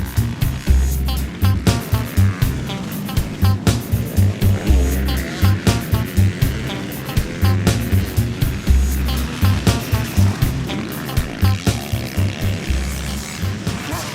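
A 2010 KTM 450 SX-F motocross bike ridden hard around Paris Raceway, its engine loud and close with rhythmic revving bursts and gear changes throughout.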